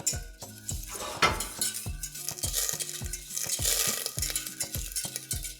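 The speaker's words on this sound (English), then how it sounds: "You just do that slowly, a couple cubes at a time, whisking constantly until you get to the desired thickness." A whisk clatters rapidly and rhythmically against a metal pan as butter cubes are worked into a creamy sauce, with a soft sizzle beneath the steady scraping strokes.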